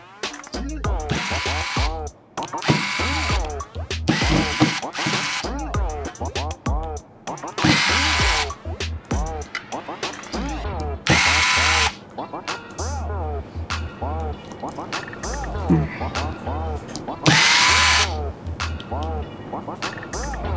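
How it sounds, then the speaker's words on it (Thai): An electric screwdriver removes screws from an OPPO R9s phone during a screen replacement, whirring in short repeated bursts up close, with someone talking between and over the bursts. "น็อตทุกตัวถอดหมดเลยค่ะ"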